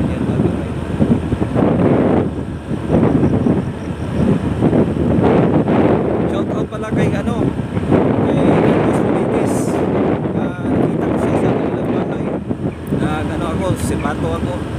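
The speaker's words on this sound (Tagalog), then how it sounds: "Hangin presko." Strong wind buffeting the microphone outdoors near San Miguel church in Sto. Tomas, a rough roaring rumble with gusty swells throughout, while a person talks over it.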